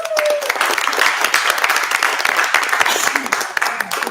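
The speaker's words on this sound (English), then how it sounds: "So let's give her a round of applause for her service." An audience at a monthly meeting applauds a departing Peanut Board member, a close, continuous burst of many hands clapping at full strength, with a few voices faintly mixed in.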